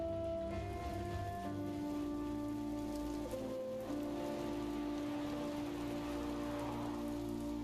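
Steady rain falls throughout a scene in the video game Heavy Rain, a dense, even hiss of drops on surfaces with tonal game music sustained underneath and no voices.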